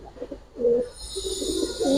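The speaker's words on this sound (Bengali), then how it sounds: "অনেক গরম কবুতর আর রানিং আছে" Giribaz pigeons give a few close, soft rolling coos, one swelling call followed by steady murmuring and another coo at the end, with a faint high hiss behind.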